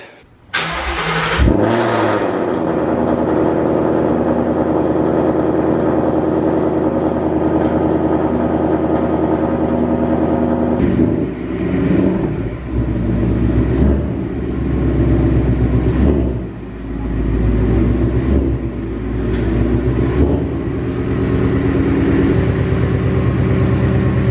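A Ford Mustang GT S550 is driven on the road. Its engine starts with a loud burst, then drones steadily and close up for a long stretch, with occasional shifts and revs in pitch.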